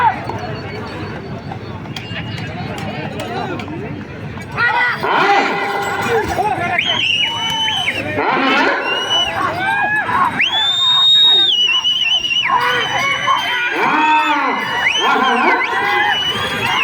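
A crowd shouts, cheers and whoops loudly and steadily, with scattered screams and excited voices through a dense, continuous roar; applause is not distinct within the noise.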